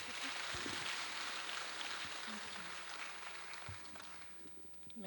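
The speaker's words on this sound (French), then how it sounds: "Sous vos applaudissements, s'il vous plaît." Audience applause at a women's leadership and entrepreneurship forum in Dakar, a steady wash of many hands clapping at a distance that thins out slightly near the end.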